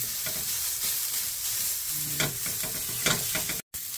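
Sliced onions sizzle in a pan after ginger, a steady close frying hiss with soft scraping strokes of a spatula stirring now and then.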